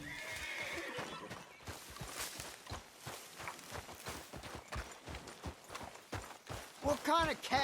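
A horse in the Western video game Red Dead Redemption II whinnies near the start, then hooves clip-clop in an uneven walking rhythm, with a voice speaking over parts of it.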